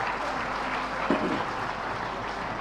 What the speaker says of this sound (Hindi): जरा जोरदार तालियां इन सभी के लिए